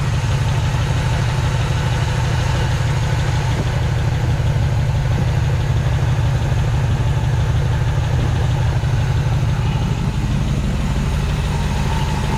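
A 1970 Chevelle V8 fitted with a Quadrajet carburetor idles steadily and close by, a continuous low rumble with a faint knocking pulse and no one talking.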